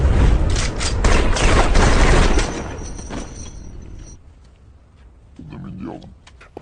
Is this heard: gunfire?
yes